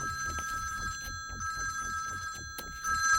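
A phone rings with a steady electronic trill, its repeated pulsing bursts continuing without pause, near and clear over a quiet room in a scene from the Hindi film Baat Bann Gayi.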